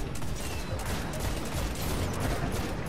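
Dense, continuous gunfire crackles through the Crota raid in Destiny, a steady barrage of rapid shots and impacts with no clear gaps, fairly loud and unbroken throughout.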